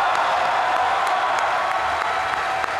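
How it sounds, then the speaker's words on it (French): Sustained applause from a studio audience welcoming a guest, a thick continuous wash of many hands clapping at an even level, with faint crowd noise beneath and no talking. "Je vous demande un tonnerre d'applaudissements pour Pierre-Étienne Marx."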